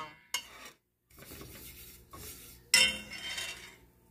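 Flour and vegetable oil being stirred in a pan to brown, with scraping and clinking of a utensil against the pan in short bursts, close and fairly quiet, no talking.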